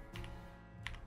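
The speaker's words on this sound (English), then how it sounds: "we're going to type out our word." Fingers typing text on a computer keyboard: two quick, faint clusters of key clicks, close but quiet, over a low steady background hum.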